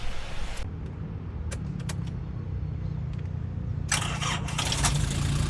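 A used car's ED27 engine idles with a steady low rumble throughout, with a few sharp clicks and a brief burst of hissing noise partway through.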